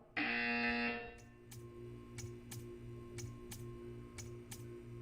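A buzzer in the video game Portal 2 sounds once as a loud, harsh electronic blare lasting about a second, followed by faint regular ticking against a quiet hum.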